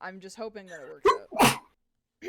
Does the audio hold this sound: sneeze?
yes